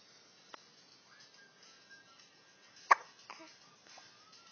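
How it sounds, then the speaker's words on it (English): Tiny baby hiccups in a quiet room, a soft one followed a couple of seconds later by a sharper, louder one, with faint rustling between. "And you got the hiccups, you poor lady."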